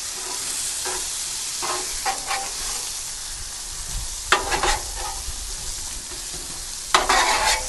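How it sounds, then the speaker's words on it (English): Pork chops sizzling on a Blackstone griddle, a steady hiss and crackle with intermittent scraping and bursts of louder sizzle as they are flipped, and no talking. "We'll go ahead and flip our pork chops again."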